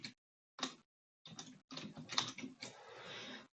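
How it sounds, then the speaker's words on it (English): Quiet keyboard typing comes in short bursts of clicking separated by brief pauses as a name is entered on a computer, with no talk. "let me just type it out"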